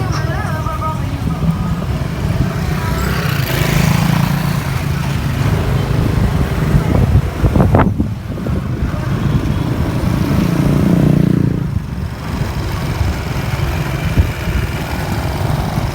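Street traffic in Cebu, Philippines, with motorbike engines revving and passing, steady road noise throughout, a louder vehicle going by midway, with faint voices in the background.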